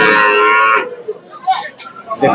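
A heifer calf lets out one loud, drawn-out moo up close at a calf market in Hazratpur, then faint crowd chatter and market bustle follow.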